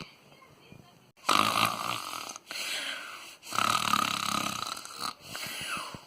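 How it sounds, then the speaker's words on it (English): Loud, rasping snoring with two long, rough breaths and shorter snorts, close by and unaccompanied by talk. "The most annoying thing is snoring."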